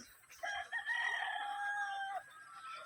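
A young rooster (stag) crows once in a long drawn-out call at moderate distance, with other birds faintly in the background.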